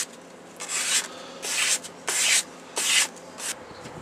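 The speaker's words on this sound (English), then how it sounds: "we've cut out the headstock, and we've sanded it down" A wooden guitar headstock being sanded by hand, four rhythmic rasping strokes of sandpaper with short pauses between them, close and clear with no talking.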